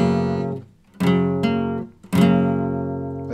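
Two strummed acoustic guitar chords, played on four strings, ring out one after another, each bright attack fading slowly, with a short gap between them.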